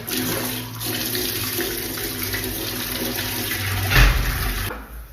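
Water runs steadily from an opened shower and tap in a rented house, a continuous broadband rush with a brief louder surge near the end before it cuts off.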